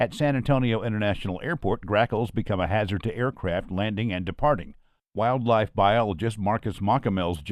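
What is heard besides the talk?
No distinct noise like a dog, phone or traffic.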